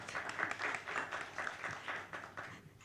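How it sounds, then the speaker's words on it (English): Soft clapping from a lunch-club audience, a scattered run of claps at moderate distance that thins out toward the end. "You don't have to clap me"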